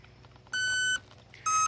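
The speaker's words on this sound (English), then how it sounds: "And you hear that beep. Tells you got contact." A receiver in an apprentice RC airplane gives two clean electronic beeps confirming contact: a longer tone followed by a shorter one after a brief pause, loud and close with no talking.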